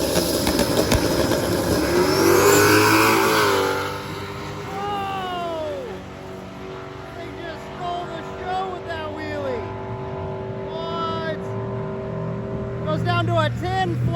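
A Honda S2000 drag car at a drag racing event launches and accelerates hard, its engine roaring loudly for a few seconds before fading into a steady drone as a commentator talks over it.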